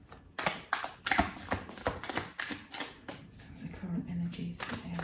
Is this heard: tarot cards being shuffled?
yes